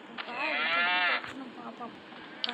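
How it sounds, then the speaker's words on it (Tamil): A cow gives one long, close, loud moo that rises and then falls, followed by quieter rustling and faint background sounds. "இந்த மாடு நம்மளை அடிக்க வரும்."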